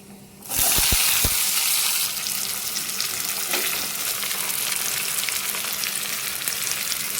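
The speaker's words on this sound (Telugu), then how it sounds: "ఇప్పుడు కట్ చేసి పెట్టుకున్న ఉల్లిపాయ పచ్చిమిర్చి వేసుకోవాలి" Chopped onion and green chillies drop into hot tempering oil for a buttermilk curry (majjiga charu) and set off a sudden loud hiss that settles into a steady, close sizzle that carries on to the end.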